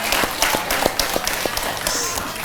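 An audience at an Islamic religious study gathering claps steadily, with dense, continuous applause from a crowd that sounds fairly close throughout.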